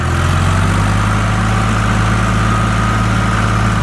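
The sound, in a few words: Case IH tractor engine running at high RPM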